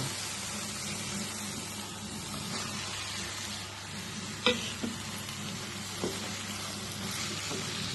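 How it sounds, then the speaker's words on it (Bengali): Cabbage hits hot spiced oil and fries with a soft, steady sizzle, while a spoon scrapes and clicks against the pan a few times as it is stirred. "মশলা থেকে তেল বেরিয়ে এসছে এবার আমি বাঁধাকপিটাকে অ্যাড করে দেবো"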